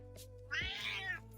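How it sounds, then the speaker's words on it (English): A domestic cat lets out a single drawn-out, yowling meow, fairly close, over a low steady electrical hum. "That's Nika's cat yelling."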